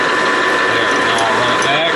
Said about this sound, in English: I throw my lever on my automatic feed and I'll shut that off